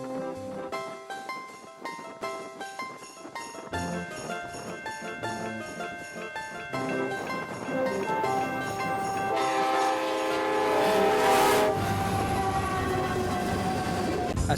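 The HNPX freight train passing a grade crossing on a westbound line, sounding a loud, sustained multi-tone horn over the steady rumble and rattle of the cars, with the horn swelling louder and closer toward the end.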